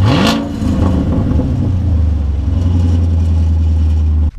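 A car with a straight-pipe exhaust revs sharply up close, then drops into a loud, deep, rumbling idle that holds steady until an abrupt cut.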